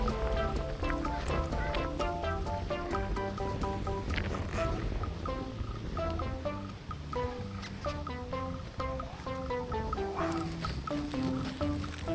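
Chickens and turkeys at a zoo in Çorlu cluck and gobble steadily nearby, a busy overlapping chorus of short repeated calls from several birds.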